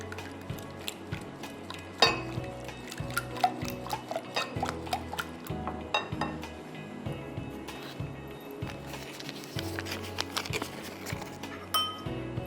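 Eggs are stirred with mayonnaise and cream cheese in a bowl, a utensil clinking and scraping against it in quick, uneven strokes up close, with a steady rhythm of taps.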